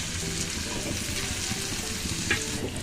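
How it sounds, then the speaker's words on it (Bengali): Chopped garlic, onion and green chili fry in a hot pan, a steady close sizzle with light stirring scrapes and one brief sharp clink near the end. "এরপরে 1 চামচ পরিমাণ রসুন কুচি, পেঁয়াজ কুচি দিয়ে দিলাম এবং 3-4টা কাঁচামরিচ কুচি করে রাখা"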